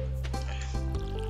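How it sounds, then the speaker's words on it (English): Watering crops with a watering can in Stardew Valley: a short splashing pour of water, close and clear over a steady low background tone of game music. "Wait. I can water it."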